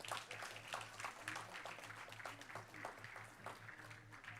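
A board meeting audience gives students a round of applause, a steady, fairly faint patter of many hands clapping in a large room that continues throughout.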